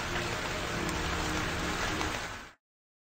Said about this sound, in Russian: Чтобы пропустить этот дождь, ничего страшного.